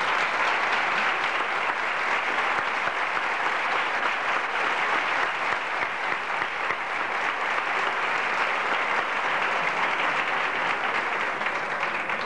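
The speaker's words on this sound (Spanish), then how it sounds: "Javier, un aplauso para él." Sustained applause from a crowd at a confraternity's 25th anniversary ceremony, many hands clapping steadily and loudly for several seconds with no voices over it.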